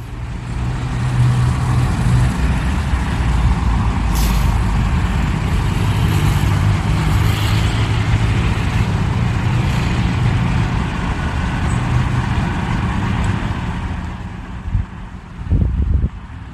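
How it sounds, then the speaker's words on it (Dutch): A truck at the Belgian–Dutch border crossing rumbles steadily close by, with heavy engine and road noise buffeted by wind, a brief high hiss partway through, and a few sharp knocks near the end. "Ja, daar is de vrachtwagen."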